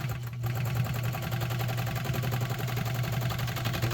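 A Pfaff 130 sewing machine runs a straight stitch, its needle mechanism chattering in a fast, even, continuous rhythm up close with a steady low motor hum and no talk.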